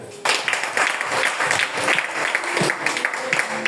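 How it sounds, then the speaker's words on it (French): A church congregation at a French-language evangelical sermon applauds to acclaim the Lord, with dense, sustained clapping starting abruptly and continuing loud and steady throughout, with faint cheering mixed in. "là, on acclame le Seigneur"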